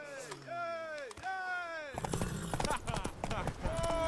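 Horse hooves clip-clop in a quick, galloping rhythm in the video game The Witcher 3: Wild Hunt, while several voices talk and shout over them, with whistling and musical tones mixed in.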